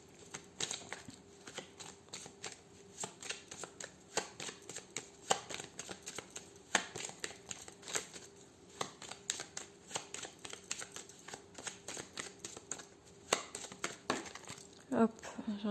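Playing cards are riffled and handled in a tarot-style reading spread, with repeated quick crisp flutters and taps at close range, and a couple of cards dropping onto the table near the end.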